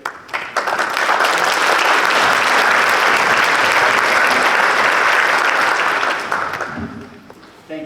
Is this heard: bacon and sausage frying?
no